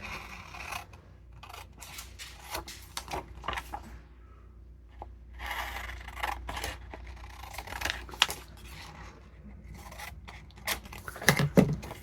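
Scissors cut a paper stencil for an ink-and-stencil envelope design, giving a series of quiet, close snips and paper rustles with short pauses between cuts.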